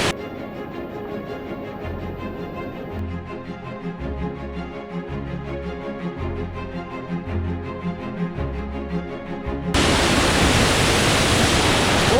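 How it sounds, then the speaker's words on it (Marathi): Music with a beat plays for most of the stretch, then a waterfall cascading from a height in Tamhini Ghat takes over as a loud, continuous hiss of falling water. "वरून पडत आहे धबधबा"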